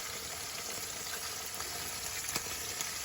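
Sausages, bacon and tomatoes fry in a pan, giving a steady, close hiss and crackle of hot fat with small pops, no voices.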